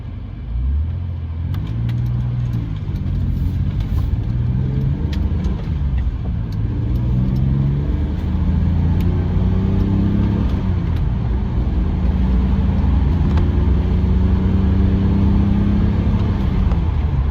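A BMW 635CSi E24 with a dogleg manual gearbox drives along, its engine running as a steady, loud, low drone with rising and falling tones as it accelerates and shifts.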